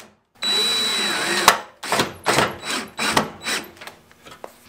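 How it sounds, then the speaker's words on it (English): Power drill boring a hole through a light fixture shroud on a chicken brooder, one long whir followed by several short bursts of drilling, close up with no talk. "What we're going to do is simply drill a hole through the shroud and anchor it with a few screws."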